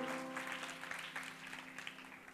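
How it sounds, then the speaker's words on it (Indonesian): Steady applause from a church audience fills the whole stretch, even and fairly dense, with a faint steady hum underneath and no talk. "Kasih tepuk tangan untuk adik kita."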